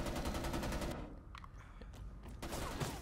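Rapid automatic gunfire bursts in the shooter game Homefront: The Revolution, a dense rattling volley for about a second, then scattered single shots and distant pops before another burst of fire near the end.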